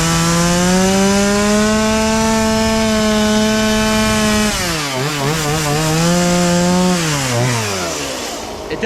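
A chainsaw cuts into wood to rough out a carved wood spirit's brow. The engine holds a loud, steady drone, then bogs and wavers as the chain bites into the wood and eases off near the end.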